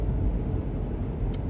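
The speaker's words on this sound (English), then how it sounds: "comparable to what I'm driving right here, a little Ford Focus 2018" Steady low interior rumble from a 2018 Ford Focus compact car on the move, a continuous drone with no voices.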